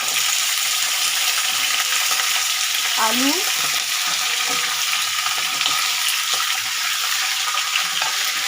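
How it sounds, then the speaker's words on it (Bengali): Pointed gourd sizzles steadily in hot oil in a pan with a bay leaf and whole cumin, for a potato, pumpkin and chickpea vegetable curry. A brief utensil scrape comes midway, and a single word is spoken. "তেল দিয়ে আমি তেজপাতাটা দিয়ে দেবো, আর একটু গোটা জিরে দিয়ে এবার আমি পটলগুলোকে ভাজবো।"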